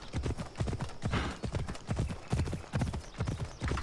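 Horse hooves clip-clop in a steady, loud rhythm as a mount trots across ground in Assassin's Creed Odyssey, with a brief whinny-like sound near the start and no talking.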